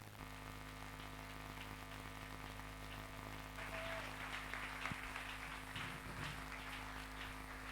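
A church congregation at a Sunday worship service applauds. The clapping is faint and distant over a steady background hum and swells noticeably partway through.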